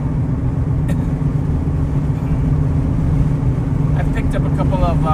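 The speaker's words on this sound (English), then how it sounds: "This is the train that carries gravel to some quarry" Freight train hauling gravel rolls past, a steady loud low rumble throughout with faint high squeals or horn-like tones near the end.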